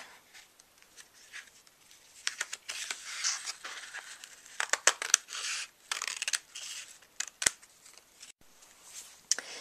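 Scissors snip through colored tissue paper for a handmade card, a series of quick close crisp cuts and rustles coming in irregular bursts, with no voices.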